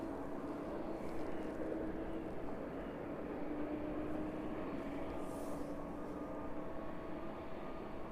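An airliner descending at about 9,300 feet on approach to East Midlands Airport near Nottingham gives a faint, distant, continuous jet drone that holds steady throughout.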